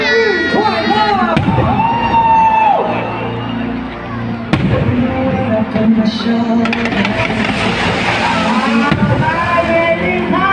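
Fireworks over an evening celebration for the county's 300th anniversary in Changhua, sharp bangs scattered over a cheering, shouting crowd with a voice on a loudspeaker speaking over it.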